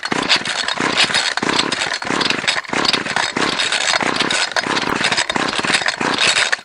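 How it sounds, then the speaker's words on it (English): A line trimmer with hard-starting and stalling trouble, choke fully on and throttle held flat, clatters and rattles loudly and close up in a rough, uneven burst lasting several seconds, with no voices. "we put the choke on all the way, and in theory it should start straight away"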